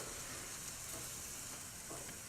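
Shishito peppers roast and blister in a hot pan, giving a soft, steady sizzle with faint crackles throughout, no voices.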